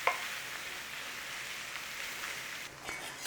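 Flour and sausage cooking in a pan for a creamy sauce, giving a steady soft sizzle and crackle that stays even throughout at close range, with a brief dip near the end and no talking.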